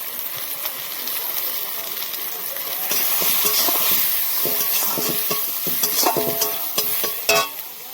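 Spices are sautéed with turmeric in a pan for a cabbage fritter and potato curry. A loud, continuous close sizzle carries repeated scraping and clinking of a spatula stirring, with no talking.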